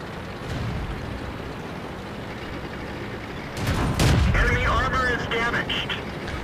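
Tank cannon fire in the World of Tanks video game, with a loud heavy boom rising out of steady background rumble partway through, followed by mechanical clatter and ringing tones.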